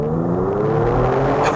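A Genesis G70 with a 3.3-liter twin-turbo engine launching at full throttle in sports plus mode on a rainy road, a loud rising engine note heard from inside the car with no talking.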